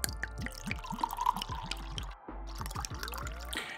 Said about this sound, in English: we're gonna pour 2 ounces of bourbon into a shaker.